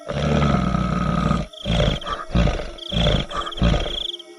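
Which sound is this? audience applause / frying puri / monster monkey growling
monster monkey growling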